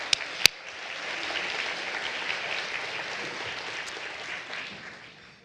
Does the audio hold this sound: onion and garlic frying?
no